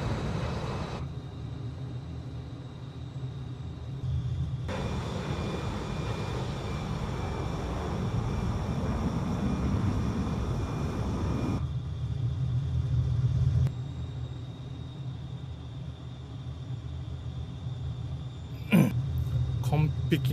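Boeing 737 MAX flying on one engine toward a landing at Kobe Airport in Microsoft Flight Simulator 2020, giving a steady low engine rumble and cabin drone throughout, with a brief shift in tone midway and voices talking over it.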